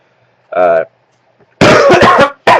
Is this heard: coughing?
yes